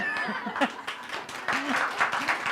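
An audience claps for two invited guests at a nonprofit heroes event: light, scattered clapping mixed with a presenter talking and a touch of laughter.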